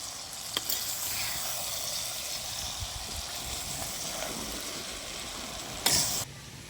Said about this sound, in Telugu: టమాటా ముక్కలు కూడా వేసేస్తున్నానండి.